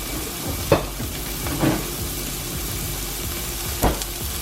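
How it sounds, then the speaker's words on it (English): Steady frying sizzle from a burger patty in a pan, a constant hiss with a few brief clanks or scrapes standing out. "Listen to that sizzle."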